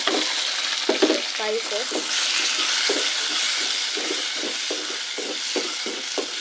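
Onions fry in a pot for a bean stew, giving a steady close sizzle with repeated scraping stir strokes, while a voice talks briefly over it.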